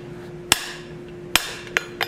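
Hammer blows on hot steel while forging an oak leaf for a curtain tie-back: four sharp, ringing metallic strikes spaced unevenly, close and clear over a faint steady hum.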